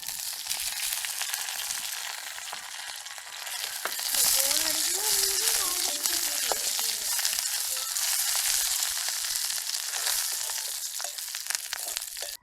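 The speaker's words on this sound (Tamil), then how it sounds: "இப்போ வெங்காயம் நல்ல வடிவாக பொரிஞ்சு வந்துட்டுது. நான் இந்த நேரத்தில் கருவேப்பிலை போடுறேன்." Onion and curry leaves fry in hot oil for thinai pongal, a loud, steady sizzle that swells sharply as the leaves go in, with brief voice-like tones beneath.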